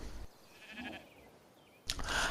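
A tamed sheep, the Ovis in ARK: Survival Evolved, gives a faint wavering bleat that is followed by a louder burst of game noise.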